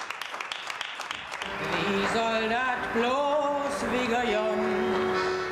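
Germans on their balconies applaud health workers on the front line, with sustained clapping and cheering from a distance, while a tonal, music-like sound rises above it.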